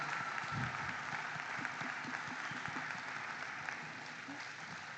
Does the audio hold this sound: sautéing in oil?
no